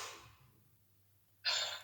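A slow, airy exhale during a sophrology breathing exercise: a soft breath early on fades away, then a louder, close breath of rushing air follows near the end. No one speaks.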